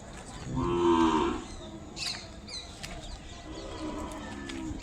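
Calves at the Sunday cattle market in Kodada, Telangana, let out one loud, drawn-out moo near the start, followed by fainter lowing and a few sharp bird chirps in open-air bustle.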